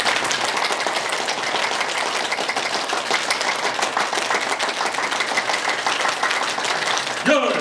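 A lecture-hall audience claps rapidly and continuously in a dense, sustained patter that runs nearly the whole span, loud and close, with no talk over it.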